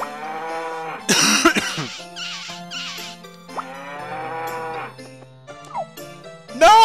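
Several short, synthesized cow moos sound one after another in the farm game Harvest Moon 64. They come in uneven bursts over steady background music, and a louder, harsher game sound cuts in near the start.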